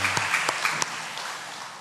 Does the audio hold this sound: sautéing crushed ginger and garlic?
no